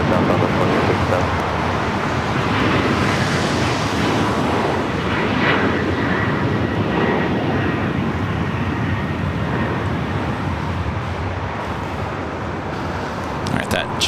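An airliner landing at LAX in challenging weather, with engine thrust reversers deployed, makes a loud, sustained broadband roar that holds steady for the whole stretch, a close and powerful jet rush.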